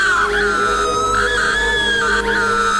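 A woman's loud, sustained scream in a horror story, high and wavering, holding steady for nearly three seconds with a brief break near the end.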